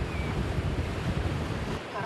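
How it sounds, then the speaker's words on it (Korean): Rough sea churns against a fishing boat out at sea, with heavy wind buffeting and a dense, continuous rush of surf and wind noise throughout. "파도가 심상치 않습니다."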